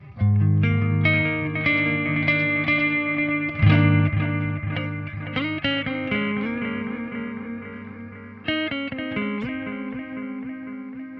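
Electric guitar run through a Joyo Aquarius delay pedal on its analog delay setting plays sustained, distorted chords and notes with repeating echoes trailing behind, loud and continuous with no talking.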